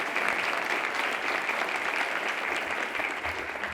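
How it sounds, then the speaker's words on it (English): An audience at the Novi State of the City address breaks into sustained applause, a full, even clapping from a large room that holds steady for several seconds. "Yeah, a round of applause."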